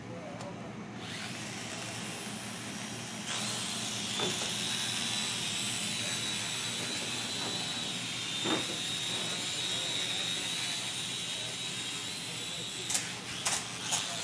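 A small drone's propellers whine steadily as it comes down to land, a continuous high buzz that rises a little partway through, with a few sharp knocks near the end.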